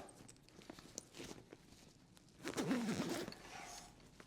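A zipper pulls closed the main compartment of a COR Surf Island Hopper 2.0 waterproof travel bag, with faint rustling and handling at first, then one longer, louder zip run up close.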